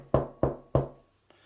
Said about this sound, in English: Along came the wolf and knocked at the door.